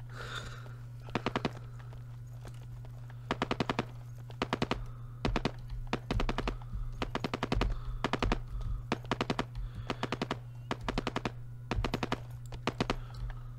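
Automatic gunfire in the tactical shooter game Ground Branch, repeated sharp bursts of rapid shots separated by short pauses over a steady low hum, loud and close, with no talk.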